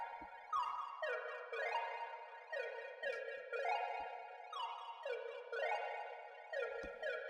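Stretched synth arpeggio melody for a beat, repeating gliding, smeared synth notes in a steady pattern with faint low ticks, played alone and fairly quiet.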